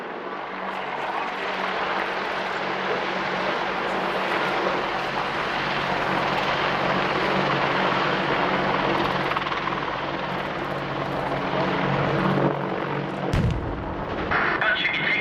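Army Apache attack helicopter hovering during an airshow demonstration at RAF Cosford, a loud continuous rotor and turbine roar that holds steady and ends with a sharp bang.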